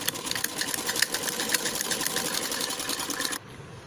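A sewing machine rapidly stitches a belt piece of a blouse, its fast even needle clatter running close and steady for a few seconds before stopping abruptly.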